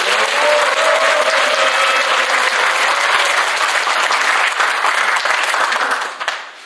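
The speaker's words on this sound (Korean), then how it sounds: "힘찬 박수와 함성으로" Sustained, loud applause with cheering from a gathered audience opening an anniversary ceremony at an annual delegates' convention, steady clapping for several seconds before tapering off at the end.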